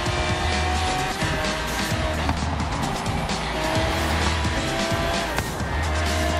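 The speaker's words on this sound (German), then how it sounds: "Ich hab schon wieder abrupt abgebremst." In the Forza Horizon 3 racing game, a car brakes hard and its tires squeal, layered over a loud, continuous engine roar with no talking.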